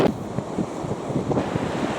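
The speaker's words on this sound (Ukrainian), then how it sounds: "Аж міст колишений дуже сильний вітер." Strong wind buffets a small, swaying footbridge high up, roaring and rumbling into the microphone in loud continuous gusts, with no talk.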